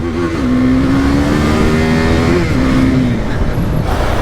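A loud Hero XPulse motorcycle engine revs hard and holds a high droning pitch, then shifts down and climbs again, racing close by off-road.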